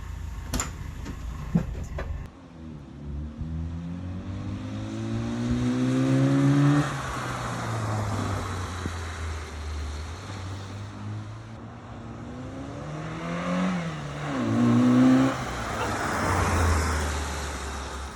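A Ford Festiva with a swapped-in B6D engine idles quietly and steady, with low harmonic hum that rises and falls as it revs gently, plus road and traffic noise around it.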